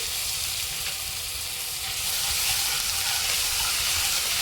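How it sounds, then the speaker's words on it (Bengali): Ground ginger, dried red chilli and cumin paste frying and being stirred in a pan for a bottle gourd and prawn curry, a steady close sizzle with light scraping throughout and no talk. "একটু নাড়াচাড়া করে ভেজে নেব"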